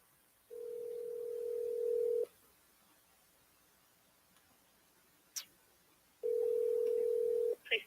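A telephone line tone sounds on a call to a police department: two long, steady electronic tones separated by quiet and a brief click, heard close and clear.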